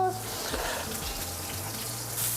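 A thick meat patty sizzles and fries in a pan, a steady close crackling hiss running throughout with a low hum beneath.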